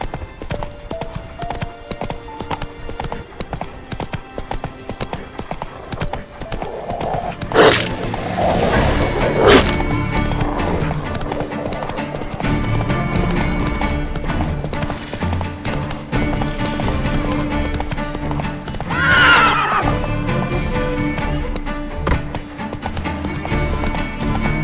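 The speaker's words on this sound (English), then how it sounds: "Whoa there, Roach." Horse hooves clip-clop at a steady gait with a few brief whinny-like cries in The Witcher 3 video game, fairly close and mostly alone with little speech.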